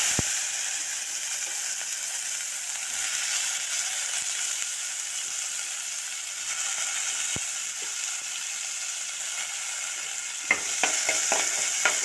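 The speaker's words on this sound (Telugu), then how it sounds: "ఆయిల్లో ఆవాలు జీలకర్ర అయితే వేసిన మంచిగా చిట్టుపట్లు ఆడుతున్నాయి" Mustard seeds and cumin splutter in hot oil with a continuous crackling sizzle. Sharper pops and ticks cluster toward the end as the seeds burst.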